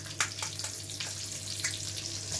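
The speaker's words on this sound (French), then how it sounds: "Vous faites un petit peu d'espace pour que le blanc d'œuf s'imprègne bien dans la poêle" An egg fries in a pan with a continuous crackling sizzle, punctuated by a few sharper spits and pops near the pan, with no talking.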